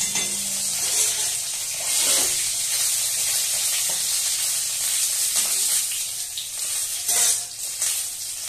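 Pieces of fresh pond-caught katla fish fry in hot oil, a steady loud crackling sizzle with occasional scrapes of a utensil, close by and continuous.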